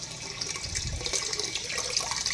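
Aquarium pump in a tilapia tank pushing a strong water flow, a steady close rush and splash of moving water throughout.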